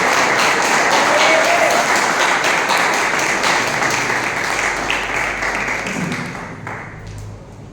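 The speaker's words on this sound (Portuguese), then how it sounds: "Você pode receber o homem de Deus com uma salva de palmas ao Senhor Jesus." A church congregation gives a loud, sustained round of applause to welcome a preacher at an evening worship service, tapering off near the end as a voice begins.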